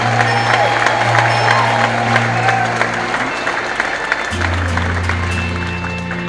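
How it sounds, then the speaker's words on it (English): A wedding congregation claps along in a church service, a dense continuous wash of hands over loud sustained music with a held organ-like chord, crowd noise filling the whole stretch. "clap your hands to Jesus"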